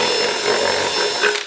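A power drill whines loudly and steadily at close range, boring out a hole in a metal washer with the wrong-size bit, for a single short burst before spinning down.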